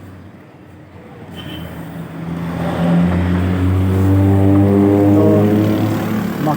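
A truck engine fresh from a top overhaul revs up from a quiet idle into a loud, steady drone with strong low harmonics, heard close, with a brief spoken word at the start.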